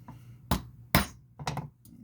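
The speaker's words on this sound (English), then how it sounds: "This is your primer seating rod. Give that some light taps." Three or four light, sharp hammer taps on a primer seating rod while hand-loading .303 British cartridges with Lee hand tools, spaced about half a second apart, close and clear with short metallic clinks.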